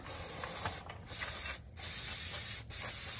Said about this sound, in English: I'll spray this down a little bit.